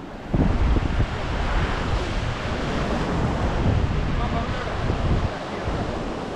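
Surf rolls in at remote Querim Beach, North Goa, below a hill: a loud, continuous rush of breaking waves with heavy wind noise on the microphone throughout.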